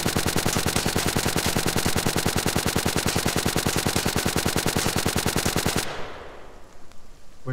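Enemy machine-gun fire in the video game The Front rattles in a loud, rapid, unbroken burst for about six seconds, then stops abruptly, leaving faint background noise.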